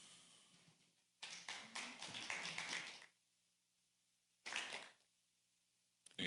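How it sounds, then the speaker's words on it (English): Scattered hand clapping in a city council chamber during an affordable housing hearing, two short bursts of applause from a small group, the first lasting about two seconds and the second briefer, with quiet gaps between. "We don't have clapping in the chambers"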